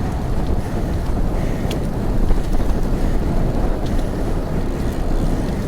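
A strong headwind buffets the microphone while canoeing outdoors, a loud continuous rumbling roar with gusts swelling and easing, and no voices.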